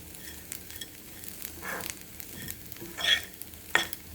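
Grated coconut frying in coconut oil in a home kitchen for Kerala erissery, giving a quiet, steady sizzle with soft stirring scrapes and a few brief sharper clinks, no voices.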